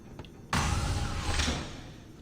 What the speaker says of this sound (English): I can go to close this door if I wanted to